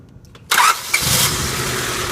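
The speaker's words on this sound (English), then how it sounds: "Gonna hook up the cap right here, and we should have a running car." After a distributor replacement for a bad coil, a car engine cranks briefly and then catches, jumping into a loud, steady idle close by with no talk.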